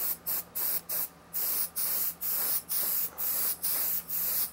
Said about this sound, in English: The airbrush has to stay in constant motion.